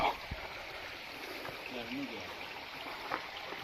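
Natural spring water trickles and burbles steadily, close by, under a soft broadband wash, with a few small splashes and clicks.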